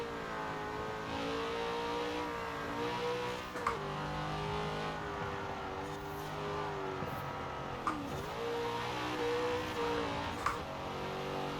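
A vintage American muscle car racing in Forza Horizon 4, its engine droning and revving steadily through the gears, pitch climbing and dipping at each shift, loud and continuous.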